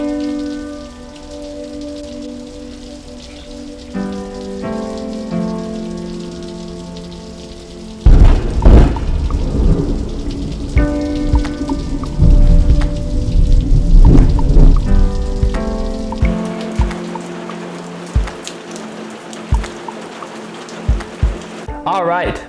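Heavy rain pours on a stormy Florida day as a steady, loud wash with sharper bursts of downpour and thumps that may be thunder. Spoken voice and tones sit over the rain at times.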